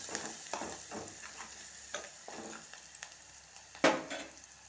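Onions frying in a pan for a curry, a steady close sizzle broken by repeated scraping stirs and one sharper clatter near the end.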